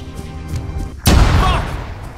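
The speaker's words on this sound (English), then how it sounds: "just heard an explosion. You guys okay?" A single sudden landmine explosion in Arma 3 bursts out loud and close over a low background rumble, then decays into a long, noisy rumbling tail.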